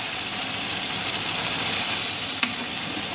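Spice and onion paste fries steadily in a pan, a constant close hiss and sizzle with a brief clink of a utensil near the end.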